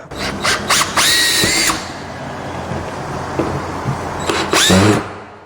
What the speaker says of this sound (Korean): 현장용으로 출시된 드릴 사용을 해 보겠습니다